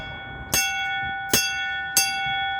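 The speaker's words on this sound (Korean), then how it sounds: "제가 행운의 종을 한번 울려드리겠습니다" Lucky bell by the Han River in Seoul struck three times, each sharp clang followed by a sustained, shimmering metallic ring that overlaps the next strike at a fairly close distance.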